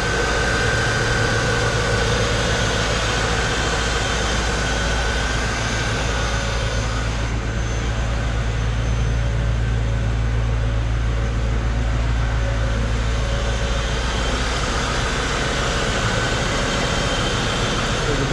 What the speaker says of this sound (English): If you listen to the engine here. It is fuel injected, obviously. Again, runs very quiet,